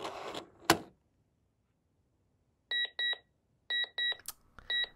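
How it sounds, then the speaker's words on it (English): A Seiko Pyramid talking clock from the 1980s sounds its alarm: clusters of sharp electronic beeps in short bursts after a silent pause, preceded by a brief click and rustle near the device. "let's at least hear what the alarm sounds like"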